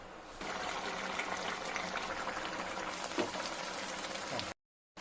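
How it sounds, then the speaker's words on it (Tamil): A pot of soya chunk gravy bubbles and simmers steadily at a moderate level, a continuous gentle boiling hiss before it cuts out abruptly near the end. "சிம்மில் வச்சு ஒரு 5 நிமிஷம் கொதிக்க வைக்கலாம்"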